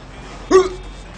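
A single short, sharp hiccup-like vocal burst stands out briefly above faint background noise from a GTA 5 stunt and crash session.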